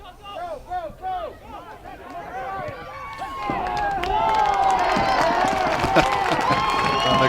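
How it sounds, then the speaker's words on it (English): Spectators at a boys soccer semi-final between Ellenville and Marlboro erupt into loud, sustained cheering and shouting after a goal. Earlier, players' voices call out on the field. "And the crowd goes wild"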